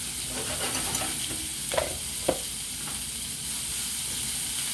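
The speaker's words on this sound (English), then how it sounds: "And you want to cook your vegetables for a few minutes with the bacon." Vegetables sizzling with bacon in a pot over lowered heat for New Orleans red beans and rice, a steady close hiss with a few sharp clinks of stirring.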